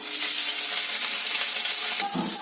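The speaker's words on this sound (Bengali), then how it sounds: "ওই তেলের মধ্যে দিয়ে দেব সিদ্ধ করে রাখা সোয়াবিনগুলো" Boiled soybeans hit hot mustard oil with a loud, steady, close sizzle that crackles throughout, with a brief clatter near the end.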